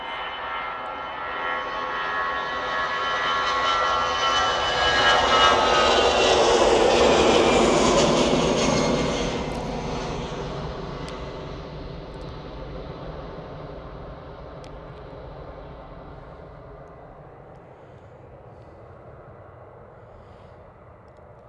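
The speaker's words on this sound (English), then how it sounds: "Next one out is this Lufthansa Airbus A319 going to Munich." A Lufthansa Airbus A319 jet takes off from Manchester bound for Munich, its engine roar swelling to a loud peak near the middle and then fading slowly into the distance as it climbs away.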